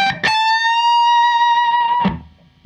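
Electric guitar with effects plays part of a riff: a sharp picked note rising into a long, sustained bend, then a second attack near the end, close and solo.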